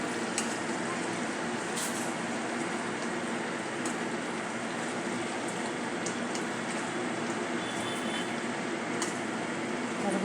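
Restaurant-style kurma bhaji being stirred and fried in a pan, a steady close hiss of sizzling with scraping stirs and a few sharp clinks of the spoon against the pan, no talking.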